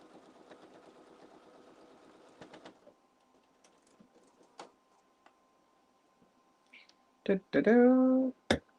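A domestic sewing machine stitches a seam on a ladies top, its fast, even whir running for nearly three seconds and then stopping. Scattered quiet handling clicks follow, and a voice speaks briefly at the end.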